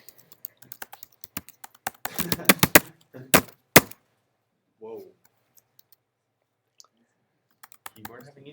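Clattering bursts of typing on a computer keyboard, rapid irregular key clicks with a few loud sharp strikes, during a lecture, with someone speaking briefly around the keystrokes.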